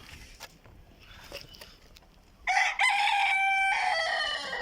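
Backyard chickens cluck faintly and softly for a couple of seconds, then a rooster close by lets out a loud, long crow that fills the rest of the moment.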